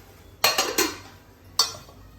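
A lid is set down on a small pot of tomatoes during home cooking, giving a quick cluster of metallic clinks followed by a single lighter clink a moment later, close and fairly loud in a quiet kitchen.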